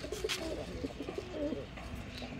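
A male orange Gorra pigeon coos in repeated low, rolling phrases close to the mic, with a faint background hiss and no talking.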